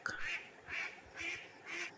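A duck quacks four times at an even pace. The quacks are clear and fairly soft, with nothing else around them.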